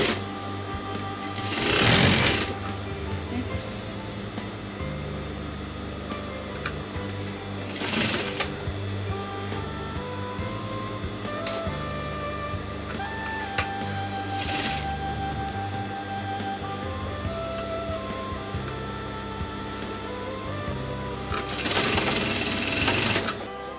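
Sewing machine stitching a collar shoulder seam together, running in a steady rapid whir with brief louder bursts and pauses, close and fairly quiet.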